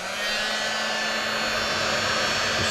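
Heat gun blowing hot air onto a damaged Doogee phone screen during a repair, a loud, steady, close-up roar with a faint constant hum underneath and no talking.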